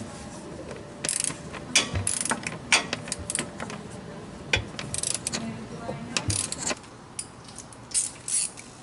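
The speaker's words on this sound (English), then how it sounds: "There are a total of 6 clamps that will need tightening." A ratchet clicks in quick bursts while tightening intercooler clamps in the engine bay of a Ford Mustang EcoBoost, close and fairly loud over a steady background hiss, with short pauses between strokes.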